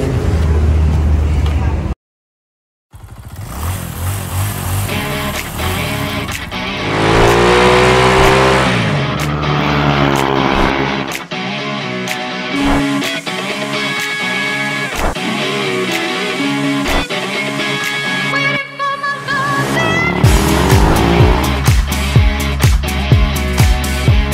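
A Hyundai Creta's engine fires up with a push-button start, the idle settling into a steady hum with some whine and revving. It is close and loud, with a brief silence early on and a few voices around it.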